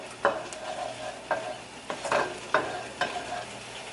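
Chili frying in oil for carne con chile is stirred with a utensil, sharp scraping strokes every half second or so over a continuous close sizzle, with no talking.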